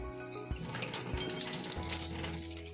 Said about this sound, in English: So just put your faucet on and get it on the warmer side.